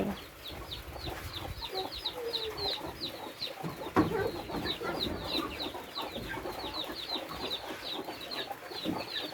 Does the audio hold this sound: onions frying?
no